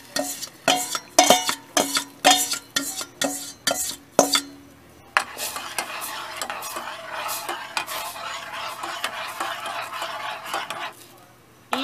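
Guajillo chili salsa sofrito in a pot for pozole rojo: a run of rhythmic metal spoon knocks against the pot gives way to a continuous close sizzle and bubbling with light stirring scrapes.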